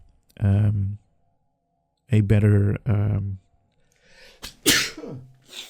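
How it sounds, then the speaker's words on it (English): A single sneeze near the end, following two short bursts of talk from the same voice, close and abrupt. "I just sneezed."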